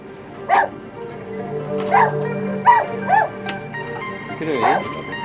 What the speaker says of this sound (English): barked at them until they landed on the beach